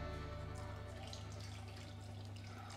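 About half a litre of hot water is poured to make stock from a cube for tomato soup, giving a faint, steady rushing wash throughout.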